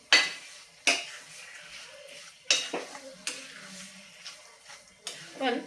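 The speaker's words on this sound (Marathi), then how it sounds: "साखर आपल्याला परत मिक्स करून घ्यायची आहे आणि साधारण एक दोन मिनटं याला शिजवून देऊयात" A spoon stirs sugar into semolina sheera in a pan, giving sharp metallic clinks and scrapes at irregular intervals, close and fairly quiet, with soft sizzling between strokes.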